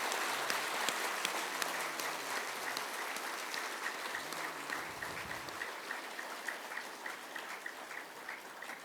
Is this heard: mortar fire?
no